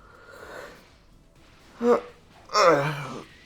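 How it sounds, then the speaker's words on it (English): A person gives a drawn-out, breathy yawn: a short catch of breath, then a longer, louder exhale, heard close and alone. "had to yawn"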